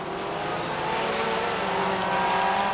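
Formula 2 race car, number 804, on the final lap of the 1993 World Final, a steady high-pitched engine whine holding close and loud throughout, no talk over it.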